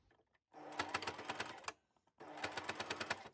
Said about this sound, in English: I'm now going to take this to my sewing machine, sew along the top edge